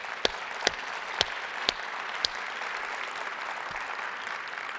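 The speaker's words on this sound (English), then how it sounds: "Let's give a big round of applause to all the nominees." Applause from a luncheon audience at a satellite industry awards presentation, honoring the nominees: a dense, even wash of clapping with a few sharp louder claps near the start, sustained for the full stretch.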